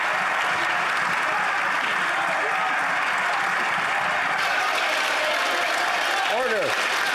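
Dense clapping fills Canada's House of Commons during a heated opioid crisis debate, a continuous wash of hands beneath overlapping voices, with a brief rising vocal sound near the end.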